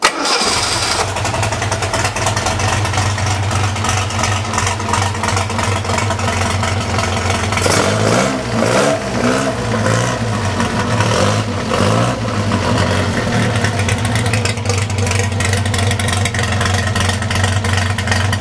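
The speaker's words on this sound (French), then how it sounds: "je vais essayer de le démarrer d'une seule main, bouton on" An Alpine 1600S engine on a test bench fires up and settles into a steady idle around 700 rpm, not yet fully warm, loud and close with a continuous throbbing rumble and some brief blips.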